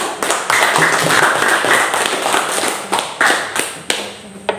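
A classroom group claps for a student presentation, a close burst of applause that thins into scattered individual claps toward the end.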